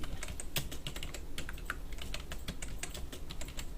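Rapid keystrokes on a computer keyboard while drafting a technical part drawing, with a steady run of close, crisp clicks and an occasional heavier key press like Enter.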